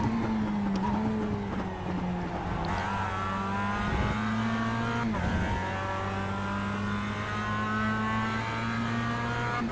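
Mazda MX-5 Cup race car in the iRacing sim at Lime Rock Park, its engine droning steadily and loudly throughout, with pitch dips around corners and gear changes, then climbing again under acceleration.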